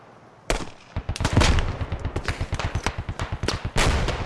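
Rifle fire in the military shooter Squad, aimed at a rock ahead: a single sharp shot followed by rapid, fairly regular bursts of loud close gunshots, some shots overlapping, with no talk.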